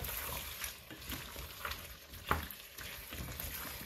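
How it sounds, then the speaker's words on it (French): Chunks of chayote stirred through a simmering sausage sauce in a pot: soft, faint scraping and gentle bubbling sizzle with one sharper clink of the spoon. "Les morceaux de chouchou qui vont baigner dans la sauce, on va bien mélanger et ça prenne bien la sauce de partout."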